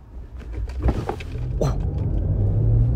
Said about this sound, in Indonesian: Kita lihat apakah dia bisa melajukan mobil secara positif hanya dengan listrik saja.